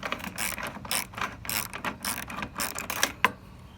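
A ratchet on a deep 12 mm socket clicks in quick repeated bursts while backing off side marker light fasteners, close and crisp with a sharp metallic tick near the end.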